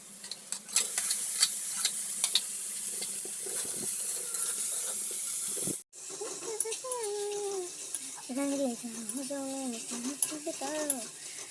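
Chopped tomato frying with onions in a hot pan, a continuous close sizzle with stirring scrapes, briefly cutting out midway before returning under a voice speaking.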